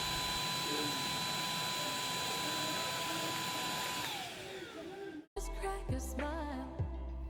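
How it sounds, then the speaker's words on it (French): A household vacuum cleaner runs with a steady, loud whine, then winds down and switches off, followed by a few quieter clicks and clunks nearby. "voilà un petit aperçu du son de l'aspirateur des deux niveaux"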